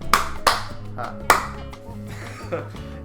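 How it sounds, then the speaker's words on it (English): Several sharp hand claps ring out close by, spaced irregularly, over a steady low hum and faint talking voices. "I'm just gonna clap sync"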